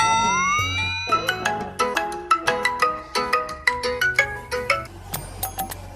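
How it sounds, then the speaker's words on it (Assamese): A phone plays a bright melodic ringtone, a quick run of electronic notes in a repeating tune, loud and close. "কিনো বাৰে বাৰে ফোন মাৰি আছো ফোনটো ৰিচিভ নকৰে"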